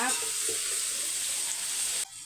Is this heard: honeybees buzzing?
no